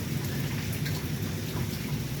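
Steady rain falling outside by a porch on a dreary day, a continuous hiss of drops with a low rumbling undertone, even and unbroken throughout with no voices.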